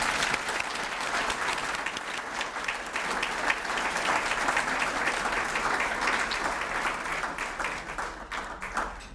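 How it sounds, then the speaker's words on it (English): A crowd at a Daughters of the American Revolution awards reception gives its honorees a steady round of applause, dense clapping that carries on at an even level for several seconds before thinning out. "Could we have another round of applause for all of our honorees today?"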